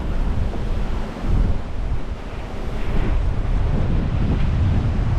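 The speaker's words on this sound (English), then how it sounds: "Look at the white water everywhere." Strong wind buffeting the microphone and breaking waves while sailing the Sound of Jura in Force 8 gusts, a loud, continuous roaring wash of water and air with no voices.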